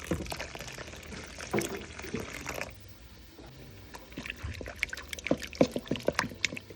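Warm water is poured into a pan holding tomato ketchup and barbecue sauce for a Jamaican brown stew chicken, giving a close splashing stream, a brief lull, then irregular trickling and dripping.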